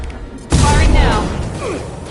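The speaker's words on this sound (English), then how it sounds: "Firing an impact shot!" An impact shot fired in Mass Effect 2 Legendary Edition on Insanity difficulty: a sudden loud burst that hits hard, then a whooshing, mechanical tail that slowly fades. Combat noise carries on underneath.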